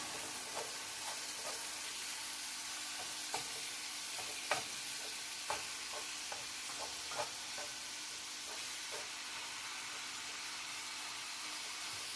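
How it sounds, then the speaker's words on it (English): Two pounds or less of hamburger meat frying for homemade chili, giving a steady, even sizzle throughout with scattered faint clicks and taps from stirring, no voices. "Let this fry 8 to 10 minutes"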